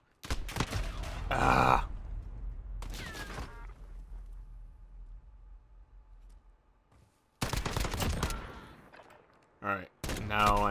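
Single-fire gunshots in a 3v3 Gunfight match of the video game Modern Warfare, a few sharp reports mixed with a player's groans and spoken remarks, followed by quieter stretches.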